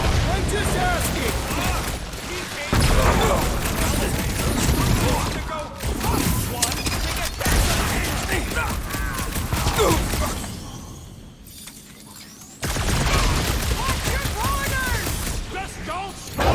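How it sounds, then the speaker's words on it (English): Guardians of the Galaxy video game combat brings bursts of rapid gunfire and crashing impacts, loud and dense, broken by brief lulls, while characters talk over the shooting. "they're shooting at us"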